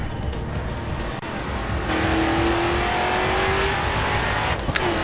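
A race car in the racing video game Grid 2, its engine droning loudly and steadily with a rising whine midway, a tire-squeal edge over the roar, and a brief clatter near the end.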